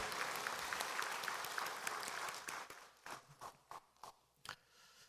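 A church congregation claps together during a worship service, a dense sustained applause that thins out into a few scattered, isolated claps near the end.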